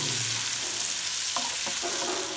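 Salted onions soften in a pan for an Andhra-style chikkudukaya curry, a soft steady sizzle near the mic with a couple of brief stirring knocks near the end and no voices.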